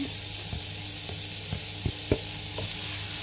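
Garlic and ginger fry in plenty of oil with a little butter, giving a steady close sizzle broken by occasional soft clicks of stirring, with no one talking.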